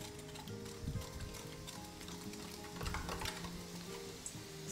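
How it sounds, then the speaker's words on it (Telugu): Boondi batter dropping through a slotted ladle into hot oil, a steady bubbling fry with scraping stirs under faint background music, no talk. "నూనె వేడెక్కిన తర్వాత పిండిని ఇలా జాలీలో వేసేసుకొని జస్ట్ ఇట్లా తిప్పుతూ ఉండాలి"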